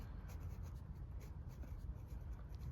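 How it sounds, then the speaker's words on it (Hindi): A pen scratches steadily across paper or a board, a faint, continuous close-up scribbling texture with no voice over it. "हम लोग लिखेंगे सब्ट्रैक्टिंग"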